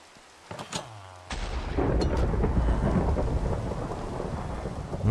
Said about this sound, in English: Oh! It's a thunderstorm.